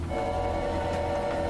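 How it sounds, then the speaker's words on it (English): A train whistle blown aboard a train in the video game Choo Choo Charles, one steady, sustained whistle tone that holds at full strength for the whole moment, close and loud over a low rumbling train background. "I really wanna pull on this train whistle, but that might summon Charles."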